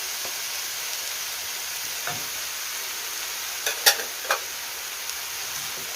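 Minced kefta meat sizzles steadily in a frying pan while a utensil crumbles and stirs it, adding soft scrapes and a few sharp clicks above the constant hiss.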